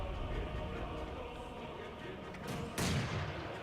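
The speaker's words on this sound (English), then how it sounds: "So just a little bit of mortar fire right now." Mortar fire in the strategy game Company of Heroes 2 is heard as faint, distant thuds over a low rumbling battlefield, with one sharper explosive crack near the end, while a voice talks.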